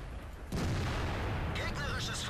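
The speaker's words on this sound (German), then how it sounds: "Ja, ich schieße gleich auf ihn los." A tank cannon booms once in World of Tanks, a sudden loud blast that gives way to a sustained rumbling roar, with a voice talking over the tail end.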